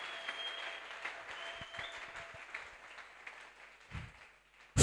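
Light, scattered clapping and murmuring from a church congregation during a Sunday worship service, faint and uneven, thinning out near the end before a sudden loud burst.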